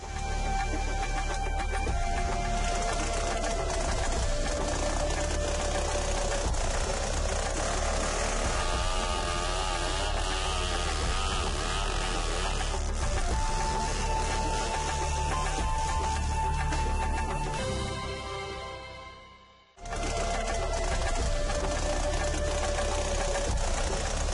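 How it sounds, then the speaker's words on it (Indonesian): Motorized chainsaw cutting a tree trunk for building a boat, with a steady loud droning whine that shifts pitch as the blade bites into the wood, cutting out briefly near the end before restarting. "Batang pohon pun langsung dipotong menggunakan mesin gergaji"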